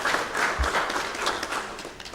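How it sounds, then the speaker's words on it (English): An audience at a linguistics expo claps in a dense, steady round of applause that stays at an even level from start to finish. "I think this deserves an applause"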